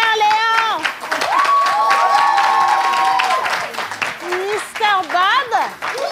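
An audience at a festive outdoor event claps and cheers for the red team, loud crowd noise with shouting voices and whistles mixed into the applause throughout.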